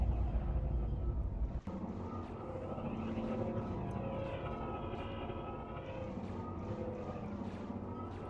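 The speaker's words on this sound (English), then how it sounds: "That sounds like a Deca." A Deca aircraft in the video game ARMA drones overhead, a steady propeller-like engine hum holding throughout at moderate loudness, with a brief sharp click early on.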